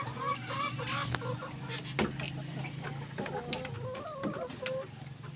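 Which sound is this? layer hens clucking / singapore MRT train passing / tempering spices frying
layer hens clucking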